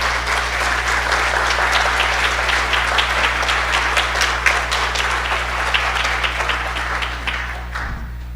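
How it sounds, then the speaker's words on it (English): Sustained audience applause for the speakers at an academic association gathering, dense clapping from a sizeable crowd, loud and even for several seconds before tapering off near the end. "I want to give another round of applause to our great speakers, Rana and Eric"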